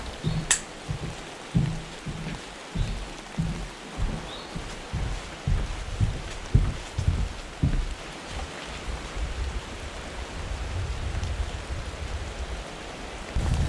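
Rain and wind outdoors on a cold day, a steady wash of falling rain with gusty rumble, while heavy footsteps crunch rhythmically up close through the first half.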